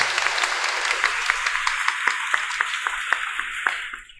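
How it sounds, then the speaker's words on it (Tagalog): A church congregation at a Christmas night Mass claps steadily in dense, sustained applause with sharp individual claps standing out, fading out at the end. "Bigyan mo ng palakpak at papuri ang ating Panginoon."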